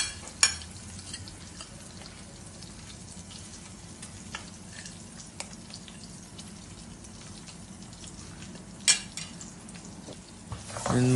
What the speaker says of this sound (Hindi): इन मसालों को भी अच्छी तरह मिक्स कर लेंगे। इतना हिलाएंगे कि इसके अंदर से खुशबू आने लगे।